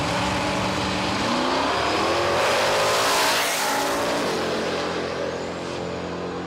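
A car engine revs hard and climbs through gears during a wheelie competition in Need for Speed ProStreet, loud and continuous with rising engine pitch and some tire noise.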